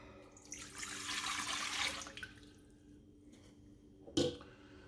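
A kitchen tap runs into a bowl as water is measured for sourdough bread, a bright hiss that lasts about two seconds and then stops, followed by a brief splash.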